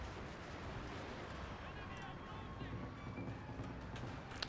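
A distant, continuous artillery barrage rumbles in Fall of the Samurai, a dense low roar of cannon fire across a battlefield, faint and steady with scattered sharper reports.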